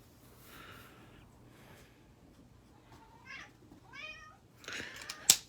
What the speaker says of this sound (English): Some of my cats are downstairs with me and they're rather rambunctious at the moment.